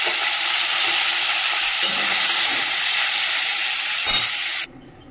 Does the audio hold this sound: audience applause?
no